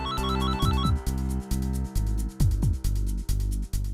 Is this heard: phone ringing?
yes